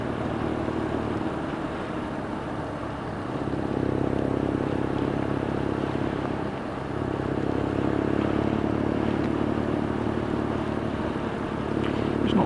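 A BMW R nineT Scrambler's air-cooled boxer engine drones steadily and loudly throughout on a wet road, with the pitch rising and settling as it rides along.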